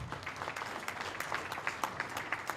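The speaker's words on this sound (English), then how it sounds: "Let's give the outgoing chair another round of applause." Audience at an African Union ministerial meeting applauding the outgoing chair, a faint, steady patter of many hands clapping heard from a distance.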